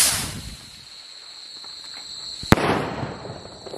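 A Diwali firecracker rocket fitted with an aloo bomb goes off outdoors: a hissing launch, then one sharp, loud bang, followed by fading crackle and insect chirps in the background.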